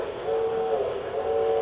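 Model train rolling past on a layout with a miniature barn, farmhouse, animals and farm fields, giving a steady, continuous mechanical hum with a faint whine that holds level throughout, no voices.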